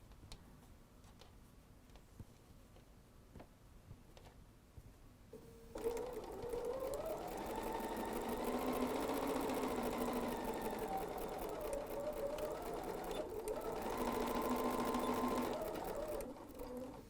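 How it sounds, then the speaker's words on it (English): A sewing machine stitches elastic down onto a fabric face mask, a steady close whirring hum that starts abruptly partway through and runs continuously with slight swells in speed, no talking over it. "sew our elastic down"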